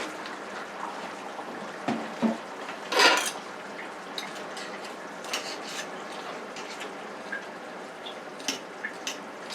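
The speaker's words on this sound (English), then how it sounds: "I have 2 white potatoes cut up here. I'm going to drop them in." Cut white potatoes dropping into a cooking pot of curry chicken, a short splash and knock near three seconds amid light pot and utensil clatter, close and fairly quiet.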